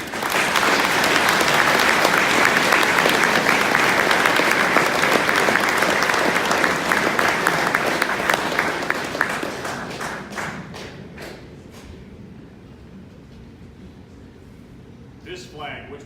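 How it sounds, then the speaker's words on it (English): Sustained audience applause fills an Air National Guard retirement ceremony, a dense wash of clapping that holds steady for about ten seconds, then thins into scattered individual claps and fades to near quiet. "Round of applause."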